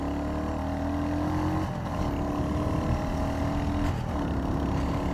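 A Royal Enfield Hunter motorcycle engine revs up hard on a road during a top-speed run, its rising whine dropping briefly at two gear shifts, close and continuous with no talk.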